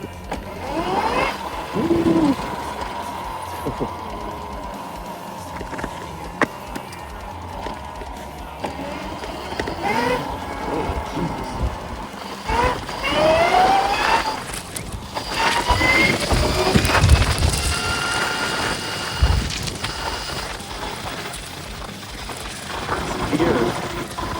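A 72V electric vehicle accelerates in first gear with a rising, whining motor pitch that sweeps upward and climbs repeatedly, mixed with wind and rattling, while a person talks over it.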